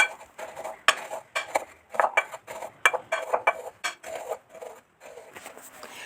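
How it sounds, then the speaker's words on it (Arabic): Biscuits for a New York cheesecake base being crushed in a large bowl, with repeated close clinks and scrapes of utensil against the dish in an uneven rhythm and no voices. "هكمل بقى فرم البسكوت بتاعي هنا"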